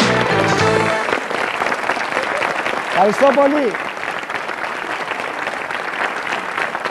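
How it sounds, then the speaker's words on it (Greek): Sustained applause from a studio audience at a 1993 Greek television game show. It is a steady, dense wash of clapping that holds throughout while the host speaks over it. "Ήταν πολύ σφιχτό το χειροκροτημά σας."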